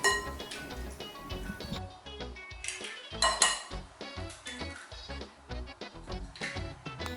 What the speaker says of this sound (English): So for the eggs, all I'm going to do is just crack open 8 eggs.